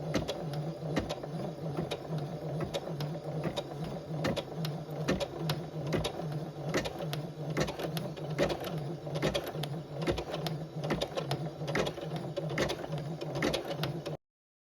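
A Chicago 7 embroidery machine stitches a butterfly design and a name, its needle tapping in a fast, steady mechanical rhythm with a constant motor hum, close and alone throughout.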